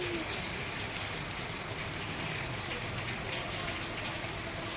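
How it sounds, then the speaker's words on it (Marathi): Steady rain pours down outdoors, a dense, even hiss of drops on surfaces that holds unbroken throughout with no voices over it. "पाऊस तिकडं जादा पाऊस चालू आहे"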